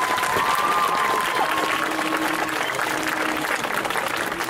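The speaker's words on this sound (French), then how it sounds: "Applaudissez-les encore." Sustained applause from a festival audience at a cosplay contest, a thick, even roar of clapping hands with a faint tone and crowd murmur beneath.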